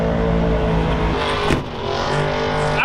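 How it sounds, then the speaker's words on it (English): A 1957 Chevy engine is held at high revs, droning loud and close, with a brief dip midway where it taps the rev limiter before picking back up. "That was just a rev limiter tap."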